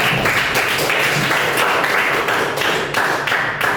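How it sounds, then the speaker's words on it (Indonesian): Classroom applause from students at a vocational school design class, dense steady clapping filling the whole stretch, fairly loud and close with no talk over it. "Dan tepuk tangan dulu untuk kita semua."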